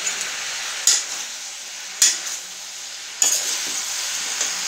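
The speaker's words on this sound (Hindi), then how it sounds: "अब हम इसमें डालेंगे स्वाद अनुसार नमक और इसे अच्छी तरीके से मिक्स कर लेंगे।" Potato and eggplant sabzi sizzles steadily in a pan as salt and spices are stirred in, with three sharp spoon knocks against the pan cutting through the close, constant frying hiss.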